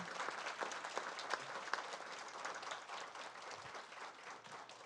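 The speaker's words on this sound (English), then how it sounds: "if we could give them one more round of applause, that would be wonderful" An audience at a board of education meeting applauds honorees, a steady, fairly distant wash of clapping that continues evenly throughout and tapers slightly at the close.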